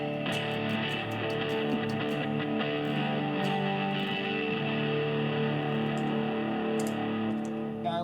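An electric guitar driven through a Special Crank overdrive pedal on a pedalboard rings out with sustained, distorted chords and a few picked strums, loud and continuous with no voices.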